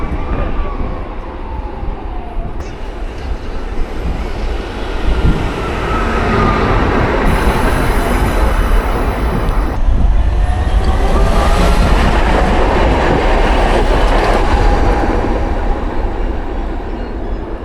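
Close and loud, a Budapest tram rumbles past on the street, its rolling roar rising with metallic rail squeals and a bell-like tone, then slowly fading away.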